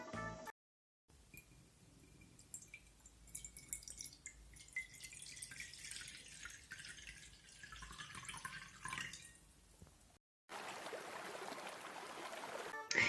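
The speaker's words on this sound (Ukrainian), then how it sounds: "А ще у лісі є струмочок." A small forest stream trickles and drips steadily and quietly, with brief silent gaps before and after.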